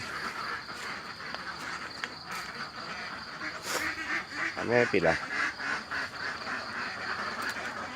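Farm ducks kept for eggs keep up a busy quacking chorus in the dim early morning, with someone speaking briefly over the flock partway through.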